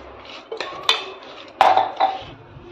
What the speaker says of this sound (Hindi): तो इसको मिला लेते हैं सब्जियों में।